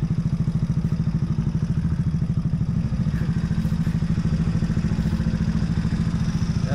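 A video game motorcycle engine drones with a rapid, even putter throughout, loud and close, with no voices over it.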